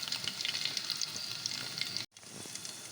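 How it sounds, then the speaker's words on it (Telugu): Garlic, cumin and other tempering spices sizzle steadily in hot oil for a ridge gourd curry, a close, continuous frying hiss with a brief break near the end and no talking. "తాలింపు దినుసులు వేస్తున్నానండి"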